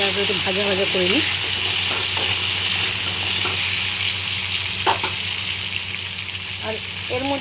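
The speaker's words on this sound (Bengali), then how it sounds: "এখন আমি আলুটা ভালোভাবে ভেজে নিই।" Potatoes sizzle steadily in hot oil in a pan on a gas stove, with scattered stirring scrapes close up. A voice speaks briefly near the start and again at the end.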